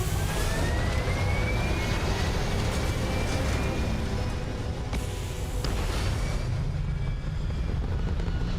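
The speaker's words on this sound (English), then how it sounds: "All thrusters firing." Spaceship thrusters firing in the Starfield game, a steady broadband engine roar that holds loud and continuous throughout with a faint rising whine, no talking over it.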